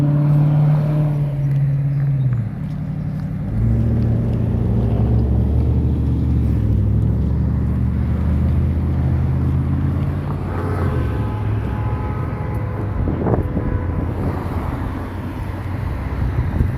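A loud truck rumbles past nearby, a heavy, low, broadband roar that swells and fades, with wind buffeting the microphone and no speech.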